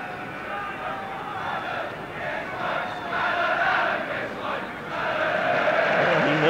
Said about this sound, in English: he heard the crowd shouting, "Alan, Alan, give us a wave,"